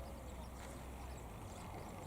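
Ducks quack by a river bank, a steady low babble of calls running beneath faint distant voices in a continuous outdoor wash.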